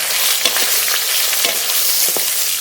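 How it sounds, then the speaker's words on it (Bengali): Bay leaf, cumin and radhuni crackle and sizzle loudly in hot oil as a tempering for a fish and vegetable curry, a close, continuous hiss with scattered pops and stirring scrapes. "তেজপাতা ওটা জিরে ওটা রাঁধুনি একসঙ্গে ফোড়ন করে নেব"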